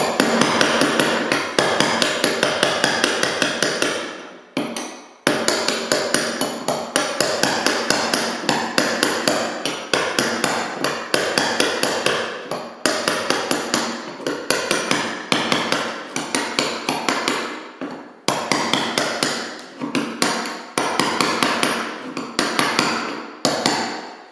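Hammer blows on a steel chisel lifting old parquet flooring set in cement, struck in quick loud bursts of sharp metallic taps with brief pauses between series, close up and alone.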